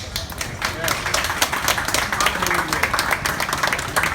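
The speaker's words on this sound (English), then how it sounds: "Really a big applause to him." Lively applause with distinct individual claps standing out, a crowd clapping briskly and unevenly while faint voices murmur underneath.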